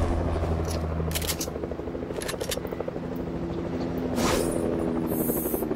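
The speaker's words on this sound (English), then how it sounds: "And Guani has a helicopter." A helicopter in Fortnite whirs with a fast, steady rotor chop, fairly loud and continuous, with short sharp game clicks and bursts scattered over it.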